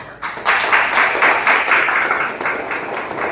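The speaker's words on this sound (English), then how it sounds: "And I think she deserves another round of applause." Applause breaks out at an athletes' college-opportunity event in the BVI, a loud, full burst of clapping that starts abruptly and carries on steadily for a few seconds.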